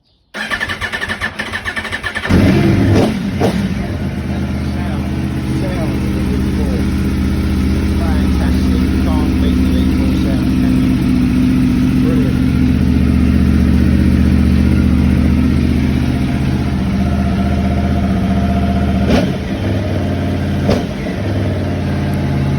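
An Aprilia Tuono V4 1100 Factory motorcycle, left sitting on a battery charger in a garage, cranks and fires up, then settles into a loud, steady, rumbling idle up close, with a couple of short blips near the end.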